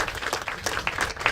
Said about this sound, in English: We should give them certainly a round of applause.